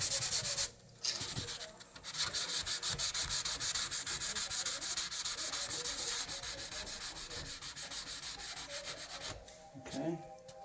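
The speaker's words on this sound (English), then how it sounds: "sand the affected area." A fine sanding sponge rubs back and forth over a steam-damaged wooden valance and door, making continuous close scratchy strokes with a couple of brief pauses between passes.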